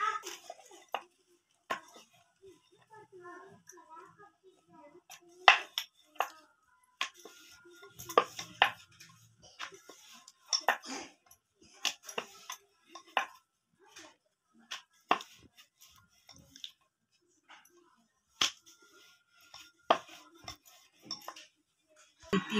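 Spinach chapati dough being rolled out with a rolling pin, sparse faint taps, clicks and knocks scattered irregularly across a quiet kitchen background.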